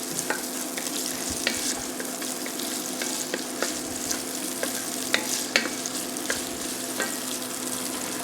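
Salted onions with garlic sautéing in a pan on raised heat, a continuous close sizzle broken by scattered sharp utensil taps and stirring, with no talking.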